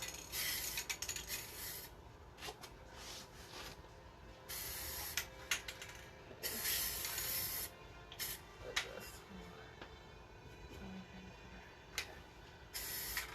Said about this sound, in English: So I'm just kind of spraying all the detailed areas and getting around the sides.